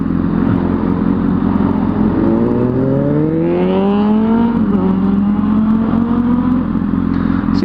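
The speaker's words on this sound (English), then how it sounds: "that guy goes ripping at 90 miles an hour right off the bat" A car accelerates hard away from a standstill, its engine note climbing steadily in pitch as it pulls away, loud and continuous throughout.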